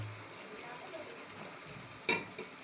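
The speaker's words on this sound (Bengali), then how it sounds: "হালকা আছে এভাবে বারবার নেড়ে এটাকে কষাতে থাকবো" Masala spices being stirred and sautéed over low heat in a pot for chicken khichuri give a faint, steady sizzle, with a brief scrape or clink near the end.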